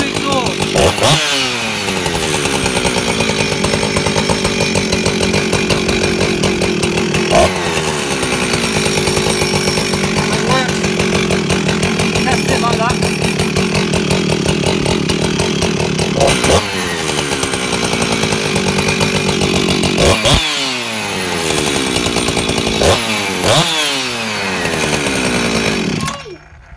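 A Husqvarna 357/359 chainsaw with a modified exhaust muffler runs loudly and continuously, its engine revving up and dropping back several times with a raspy, throaty exhaust note.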